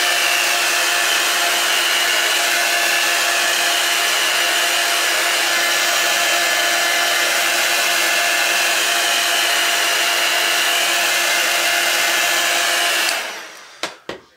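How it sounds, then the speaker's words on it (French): An embossing heat tool blowing on wet paper gives a loud, steady hair-dryer-like whoosh held alone for most of the stretch, then abruptly cut off, followed by a few soft clicks. "c'est avec un fer embossé."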